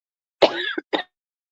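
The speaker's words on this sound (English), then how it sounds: "I'm coughing a bit." A single harsh cough followed by a short throat clearing, close and loud, then silence.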